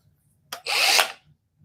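A small electric sander buzzes in a short, loud burst of about half a second after a brief tap, then cuts off into quiet.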